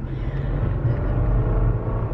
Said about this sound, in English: It's like it revs up his engine like all the time